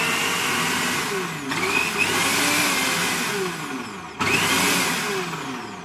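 A Kenwood Multipro Express food processor fitted with a grater attachment runs with a loud motor whine and a whirring hum, its pitch rising and falling in surges, briefly easing and then picking up again.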